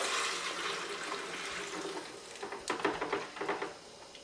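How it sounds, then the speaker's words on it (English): Water and leftover wine solids from Chardonnay making pour and splash out of a bucket into a carboy, a steady broadband wash of liquid ending in several uneven glugging slops, fairly close. "take a hose, put a little water in there, mix it out, and then dump it in"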